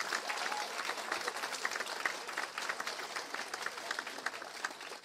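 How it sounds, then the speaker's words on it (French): Warm applause from the crowd at a university graduation ceremony on the UQO Saint-Jérôme campus, steady dense clapping sustained throughout, moderately loud and even. "On peut les applaudir chaleureusement, s'il vous plaît"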